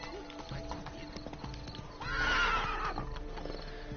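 A horse in The Witcher 3 gives a loud neigh midway through while its hooves clop steadily, set over game music, with a rider about to dismount.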